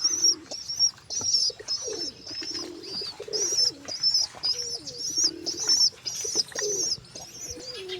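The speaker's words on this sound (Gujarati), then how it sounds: "તો કાળા કબૂતર આવ્યું" A black pigeon coos in repeated low, rolling phrases, close and steady, while high, quick chirps from small birds sound in a regular pattern over the top.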